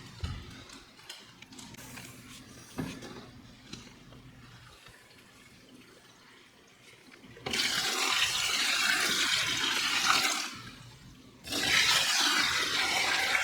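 Dirty water from a Fluval 407 canister filter being poured out in two loud, rushing splashing bursts, separated by a short pause, following quieter handling noises.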